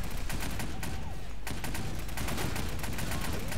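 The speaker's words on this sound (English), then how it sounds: "I will show you that you've got a mounted machine gun here." Mounted machine gun in the video game 7554 fires in a dense, continuous burst of loud, rapid shots, with a brief lull before the fire resumes and rattles on steadily.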